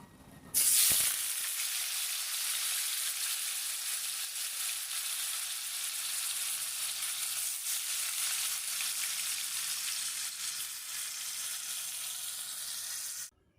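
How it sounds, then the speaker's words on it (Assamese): Paneer pieces drop into hot oil with a sudden burst, then a loud, continuous sizzle and crackle carries on steadily. "প্ৰথমতে মই পনীৰখিনি ভাজি ল'ম"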